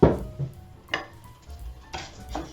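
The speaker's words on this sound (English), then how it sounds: "So my pan is hot. I'm going to throw in the rice and the lentils." Dry rice and lentils tossed into a hot pan, clattering in a few distinct bursts as the grains scatter and the pan knocks, with quiet pauses between.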